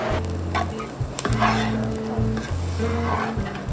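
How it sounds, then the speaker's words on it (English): Gluten-free Thanksgiving stuffing fries in a pan with a continuous close sizzle, broken by short rhythmic scraping and stirring bursts over a low hum, with no voices. "I'm just gonna let that cook and fry up a little bit."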